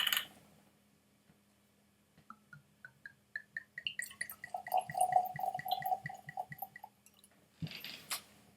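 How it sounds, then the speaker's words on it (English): J.P. Wiser's Double Still rye whisky pours into a glass, a rising run of bright glugging trickles that quickens and fills, quiet and close, ending with a light clink of the bottle. "I might as well pour a glass of this one too, the Double Still"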